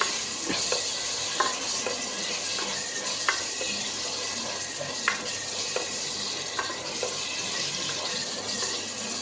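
Tomatoes, onions and chillies sauté in a pan for brinjal biryani, producing a constant strong sizzle with scattered scraping and tapping from a stirring spoon throughout.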